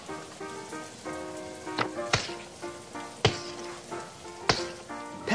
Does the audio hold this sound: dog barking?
no